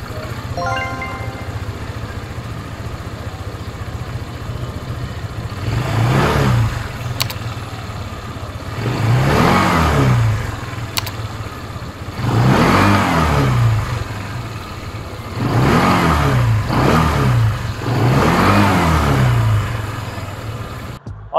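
A Bristol ADX 160 scooter ridden with its engine running, its mid-pitched drone swelling in repeated throttle surges roughly every three seconds over a steady idle hum, close and loud.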